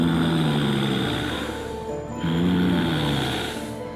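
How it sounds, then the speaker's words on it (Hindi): Two slow, heavy breaths in a row rasp up close, each a long drawn inhale that trails off before a brief lull, harsh and snore-like with a low droning rumble, used as an eerie sound effect in a horror story about a witch; no voices. "उसको वही सांस की आवाज सुनाई देने"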